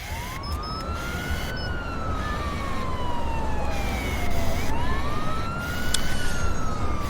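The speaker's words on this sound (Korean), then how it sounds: "울리는 사이렌" A wailing siren in a horror video game rises and falls in long sweeps over a dense, steady background rumble, loud and continuous throughout.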